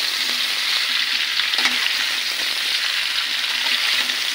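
Chopped elephant apple (chalta) sizzles and fries steadily in hot oil in a pan for a sweet-sour pickle, with an even, continuous crackle and a faint stir near the middle.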